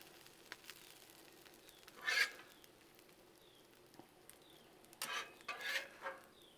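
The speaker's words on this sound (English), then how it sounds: "Get some of these peppers and onions on here." Peppers and onions cook on a Blackstone griddle: a faint sizzle runs beneath, broken by two short bursts of spatula scraping and tossing.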